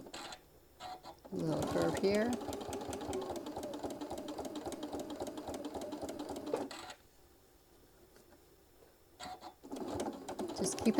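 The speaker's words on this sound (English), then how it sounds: "Then lining it up and just sewing down the side." Sewing machine stitching fabric for a mini iron travel case: a long, steady run of rapid needle clatter, a quiet pause, then stitching starts again, with a voice faintly present at times.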